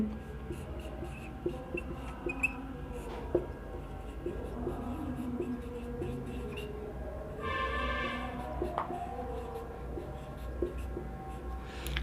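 Pen or pencil writing notes on paper, making a soft, continuous scratching with light strokes, faint and close over a low background hum.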